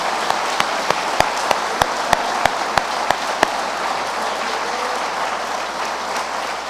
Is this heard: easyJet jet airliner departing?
no